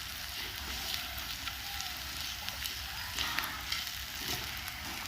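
Oil frying in a pan on a stove turned down very low, with onions being prepared for a fluffy egg omelette; a soft, steady sizzle crackles quietly throughout with small pops.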